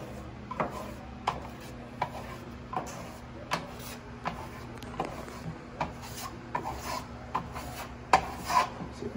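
A steel trowel scrapes and rubs blue venetian plaster across an accent ceiling in quiet, repeated rasping strokes, each a soft swipe followed by a light tap, over a steady low hum.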